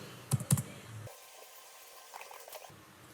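A few soft, quick keystrokes tap on a computer keyboard while entering a Cisco command, followed by near silence; faint and close.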